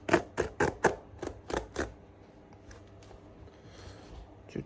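Stitching threads on the sole of a Red Wing Iron Ranger 8111 boot are cut during a resole, giving about seven quick, crisp snips in a fast close series, then a quiet pause with a few faint ticks.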